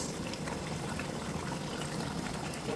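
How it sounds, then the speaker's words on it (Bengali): Pot of morog polao (chicken rice) at a strong rolling boil, a dense, continuous bubbling and hissing that stays close and steady throughout, with no talk. "ভালোভাবে বলক উঠে আসছে"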